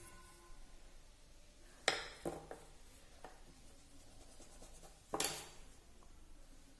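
A pencil marks paper during a beginner's portrait drawing, with faint soft scratching and two sharper strokes or taps standing out against a quiet background.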